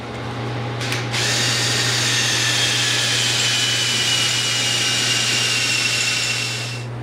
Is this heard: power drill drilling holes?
yes